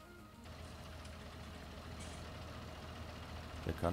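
Fendt 930 tractor engine idling in Farming Simulator 19, a low, steady diesel rumble held at a faint, even level, with a brief louder clatter at the end.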